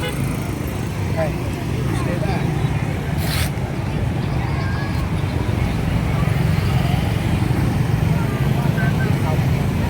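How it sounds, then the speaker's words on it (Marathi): Heavy road traffic streams past in Da Nang, Vietnam, near the Dragon Bridge at night: a dense, continuous roar of many engines and tyres, loud and close throughout with no gaps. "फुल गाड्या येत आहेत."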